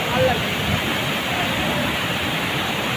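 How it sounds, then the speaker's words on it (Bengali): Water of a low but forceful waterfall pounds down in a steady, dense roar close by, continuous and unbroken for the whole stretch. "ওয়াটার ফলসটা খুব একটা মানে উঁচু নয়, কিন্তু এতটা জোরে পড়ছে মনে হবে যে অনেক উঁচু থেকে পড়ছে।"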